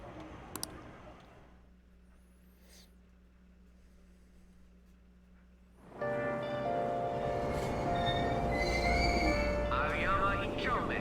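A subway train arrives at a station in the video game Persona 5. After a quiet stretch with a low hum, a loud rumbling roar suddenly sets in, with faint squealing tones over it.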